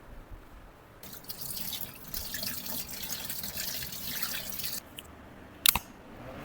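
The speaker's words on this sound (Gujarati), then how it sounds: "જોઈએ પાણી ભરીને ટેસ્ટિંગ કરીએ લીકેજ છે કે નહીં." Tap water runs into a tank or pipe being filled to check a repair for leaks, a steady close dripping and splashing for several seconds that drops off near the end, with a brief sharp knock just after.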